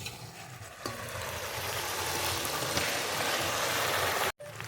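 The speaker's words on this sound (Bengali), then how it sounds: "সবজির সঙ্গে পাকোড়া খুব ভালো করে মিশে নিয়েছি" Pakoras being stirred into fried vegetables with tomato sauce in a pot for fried rice, producing a loud, continuous sizzle and crackle with occasional stirring knocks, close by, then a brief cut.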